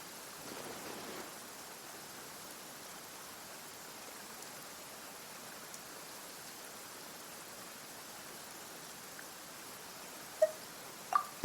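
Steady soft rain hisses evenly in a video game scene, faint and unbroken, with a few small clicks near the end.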